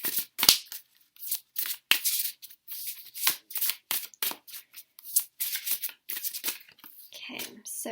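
Tarot and oracle cards are shuffled by hand in quick, papery riffling bursts, close and steady, in an irregular rhythm of short slaps and flutters.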